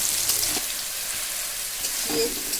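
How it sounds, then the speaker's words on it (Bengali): Onions fry in oil with cumin seeds for a shrimp, eggplant and pumpkin-leaf dish, giving a dense, even hiss and crackle close up, with a couple of brief stirring clinks. "এবার আমি পেঁয়াজ ছেড়ে দিয়েছি"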